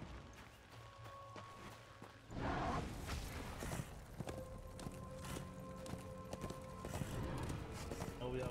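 Horse hooves clip-clop in the action game Darksiders II, a steady trotting rhythm mixed with game music and effects, with someone talking over it.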